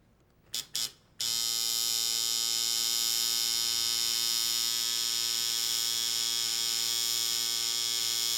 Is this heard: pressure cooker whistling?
no